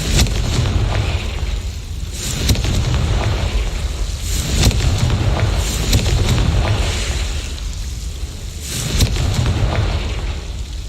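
A Confringo fire spell blasting in a Harry Potter video game, loud rumbling booms and roaring bursts layered over a dense, continuous game soundscape, with no talk.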